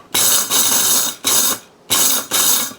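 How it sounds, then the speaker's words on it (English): Electric spice mixer cracking whole black peppercorns, running in five short loud whirring bursts with a gritty rattle and brief gaps between pulses. "So into the spice mixer they go."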